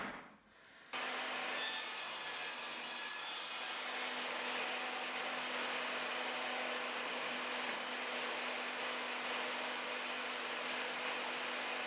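Power saw cutting 45-degree corners on a piece of wood with a miter gauge and stop block, a steady loud whine that starts abruptly after a second and runs continuously to the end, no voices.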